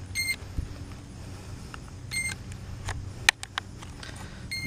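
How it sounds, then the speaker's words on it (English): A TOVSTO Aegean GPS drone gives short, faint electronic beeps at intervals as it powers on after its battery is plugged in, with small clicks and handling noises in a quiet room. "a little beep to let you know that it's on"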